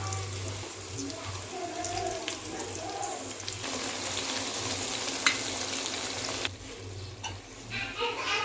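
Stuffed brinjals fry in a pan with a continuous hiss and crackle, steady and close, with some stirring and clatter and no talk.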